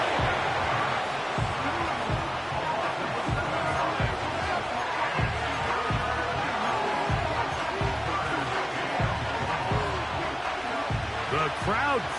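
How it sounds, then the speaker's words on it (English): Crowd at an NFL football stadium for a Chargers at Bengals game roars steadily before a third-and-long play, a dense, continuous wash of cheering with scattered thumps, under a commentator talking. "The crowd cranking it up another notch before 3rd and long."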